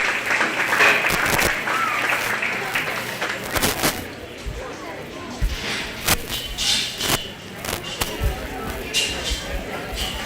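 Scattered clapping from spectators at a county fair pig show, starting fuller and thinning to sporadic claps with speech and shuffling in the show ring.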